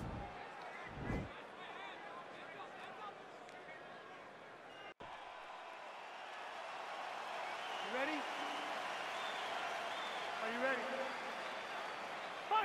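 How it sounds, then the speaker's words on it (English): Arena crowd noise from a UFC 4 heavyweight bout in the video game, a steady roar of cheering that swells toward the end, with a commentator talking over it. "crowd getting excited as this fight gets underway"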